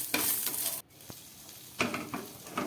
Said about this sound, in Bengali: পাঁচফোড়নটা দেওয়া হয়ে গেল, একটু ভাজা হোক